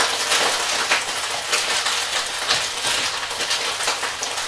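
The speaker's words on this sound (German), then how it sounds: "Einmal anbraten." Steady, loud sizzling and crackling of small frying peppers in a hot pan, continuous with scattered pops and no voices.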